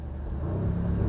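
A 2021 Audi SQ7 performance SUV with a 500 hp engine revs on a third-gear downshift, a steady low rumble that builds slightly in pitch and loudness, heard close with no voices.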